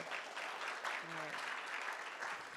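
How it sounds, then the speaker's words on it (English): A big round of audience applause at a guide dog graduation ceremony, dense and continuous throughout, with a short voice briefly audible partway through. "So let's give Lillian a big round of applause, too"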